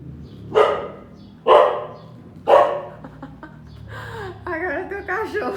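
A dog barks three times in loud close bursts about a second apart, followed by whining, whimpery vocal sounds.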